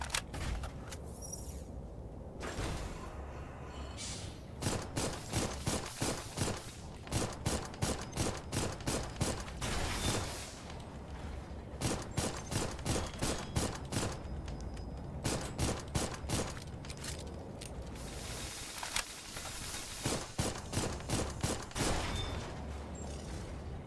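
Bursts of heavy gunfire from a big gun in the mecha video game Armored Core, repeated rapid volleys in clusters across the span, loud and close with brief pauses between strings of shots, no talking.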